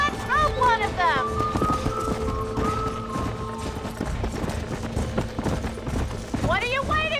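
Horses gallop with steady clip-clop hoofbeats in the Red Dead Redemption game during a horse-roping scene, close and continuous, with whinnies rising at the start and end and a voice speaking over the action.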